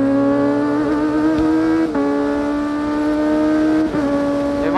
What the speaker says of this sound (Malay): Motor dia MT-09.